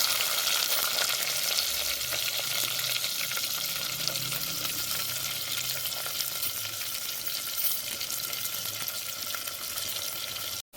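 Onions fry with cinnamon and cloves in a pot for an aloo methi curry, a dense continuous sizzle that stays close and steady throughout.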